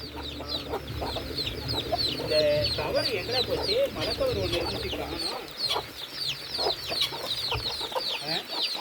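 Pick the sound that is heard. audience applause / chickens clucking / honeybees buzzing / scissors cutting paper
chickens clucking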